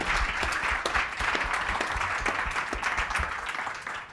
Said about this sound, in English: If you could help me give